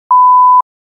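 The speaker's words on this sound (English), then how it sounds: "Now I'm going to have to edit that out and put the beep over it." A single loud, steady pure-tone censor beep lasts about half a second, preceded and followed by silence.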